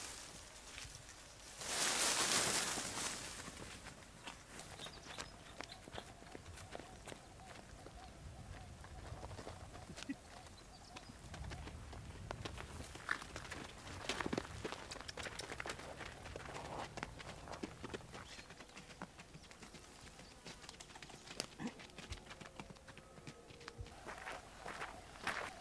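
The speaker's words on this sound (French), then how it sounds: "Mais c'est un âne?" A donkey carrying a rider plods along with soft, steady hoofbeats, faint and fairly distant, continuing at an even walking pace with light rustling around it.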